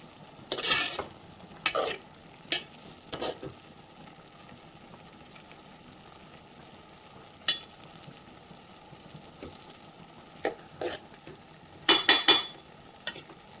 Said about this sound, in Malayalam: ഇനിയും കുറച്ച് നേരം കൂടെ ഇത് ആച്ചി വെച്ച് വേവിക്കേണ്ടതുണ്ട്.